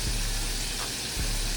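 Chicken wings for homemade buffalo wings fry in hot oil, a steady close sizzle with a brief dip and a soft stirring bump.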